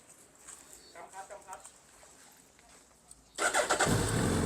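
After a few seconds of quiet background noise, a 2019 Suzuki GSX1300R Hayabusa with an aftermarket exhaust fires up abruptly and settles into a loud, deep, rumbling idle.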